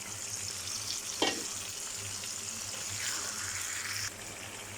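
Spices tipped into fried meat in a pan set off a steady close sizzle and frying hiss, with a brief sharp burst as they go in, continuing evenly under light stirring with no talk.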